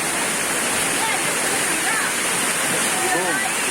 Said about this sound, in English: boom, you got the waterfall right there